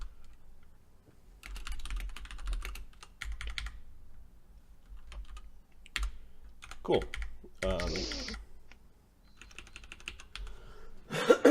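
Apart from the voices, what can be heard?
typing on a computer keyboard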